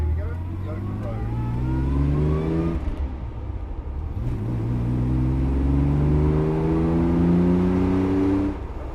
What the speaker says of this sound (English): she's warmed up now, so we're definitely ready for a road test. So here we go, the open road.